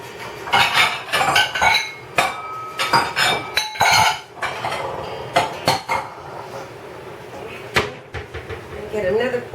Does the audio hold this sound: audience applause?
no